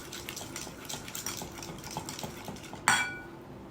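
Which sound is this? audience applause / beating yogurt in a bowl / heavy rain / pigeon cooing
beating yogurt in a bowl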